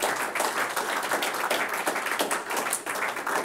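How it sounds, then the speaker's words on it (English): An audience applauds at the close of an annual lecture, dense rapid clapping from many hands filling the room at a steady loud level throughout. "please will you give Tony a really, really big round of applause for an absolutely magnificent lecture."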